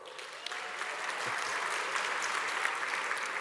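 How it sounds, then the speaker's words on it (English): At a university graduation ceremony in Durban, an audience gives the university chorale a round of applause, swelling into steady, full clapping from many hands. "Ladies and gentlemen, let's give the DUT Chorale a round of applause."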